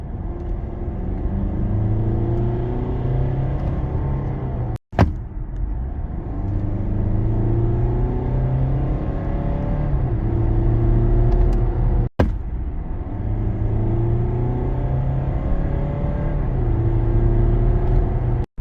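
A Mercedes C 220 d 4MATIC All-Terrain diesel estate with a sluggish automatic gearbox pulls away in repeated accelerations, its engine note climbing and dropping with each gear change, loud and close with a steady road rumble underneath.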